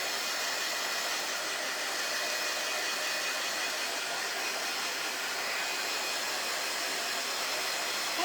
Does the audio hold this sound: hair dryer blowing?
yes